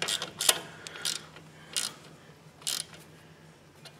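A ratchet snugging up a 10 mm bolt on a Hyundai Santa Fe during a broken front coil spring repair, heard as a few short clicking bursts spaced apart over a low steady hum, fairly quiet and close.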